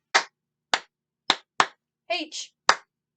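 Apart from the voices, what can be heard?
hands clapping along to a children's song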